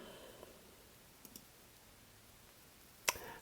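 A single faint, crisp mouse click sounds near the end, preceded by a couple of softer ticks against a quiet background.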